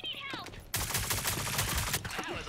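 Rapid automatic gunfire in the Rogue Company shooter game, a dense burst of loud shots lasting over a second, with someone talking before and after.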